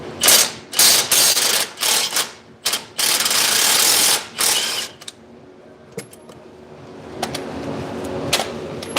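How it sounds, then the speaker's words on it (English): An 18 mm ratcheting wrench loosens a bolt on a BMW E85 Roadster, giving several loud close clicking bursts in quick succession, then quieter scattered taps and clicks. "Put our 18 wrench on here."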